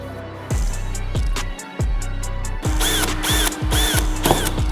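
A power drill bores into a carbon fibre hood on a GR Supra during widebody kit fitting, with loud close bursts of whirring and grinding, a few short starts followed by a sustained run with high squealing.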